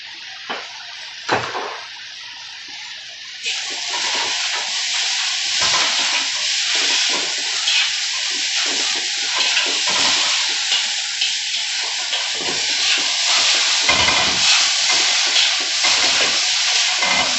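Chicken and noodles with soy and oyster sauce are stirred in a hot pan, giving a continuous loud sizzle with repeated scraping strokes and no talking.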